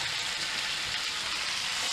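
Beef pieces browning in a hot pan for a beef and tomato stew, giving a steady, close, even sizzle with no pauses.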